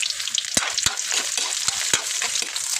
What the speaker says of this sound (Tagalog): So ato nang igisa nga to mga lamas no.